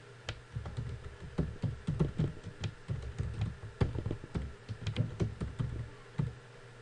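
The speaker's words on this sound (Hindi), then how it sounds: "यहाँ पर कोई टेक्स्ट टाइप करें।" Rapid, uneven keystrokes on a computer keyboard as text is typed into a WordArt box in MS Word, close and clear, with no voices.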